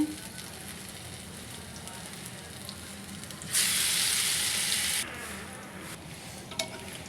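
Onion fritters (peyaju) dropped into hot oil, a bright, loud hiss that lasts about a second and a half over a softer ongoing frying crackle.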